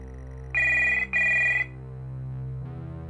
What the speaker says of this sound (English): A phone starts to ring.